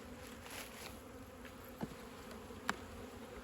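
Honeybees from a late-season split buzz steadily around an open hive, a soft continuous hum with a couple of brief sharp clicks or knocks partway through.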